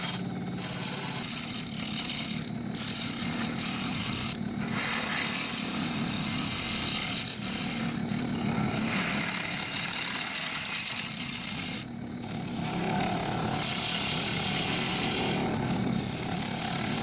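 A red cedar bowl spinning on a lathe at about 1,080 RPM in a tiny workshop aboard a catamaran, steady whirring and tool-on-wood scraping running continuously at a close, even level.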